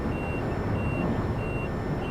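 An emergency brake warning alarm sounds in the train driving game Train Simulator 2013, with steady, repeated electronic beeps over a constant low rumble of the moving train, and no voices.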